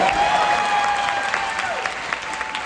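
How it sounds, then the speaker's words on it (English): Film festival premiere audience applauding during a Q&A, a full steady clapping from a sizable crowd with a faint whistle-like tone above it, tapering into scattered claps at the end. "give him a round of applause"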